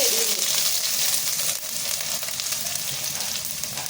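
Sliced onions sauté in a hot pan for a beef curry spiced with cinnamon, cardamom and cloves, a loud steady sizzle with a soft stirring texture throughout.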